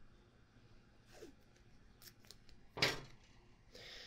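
Scissors snip through masking tape on a jig doll, a single sharp, close cut standing out amid faint rustling of tape and handling noises in a quiet room.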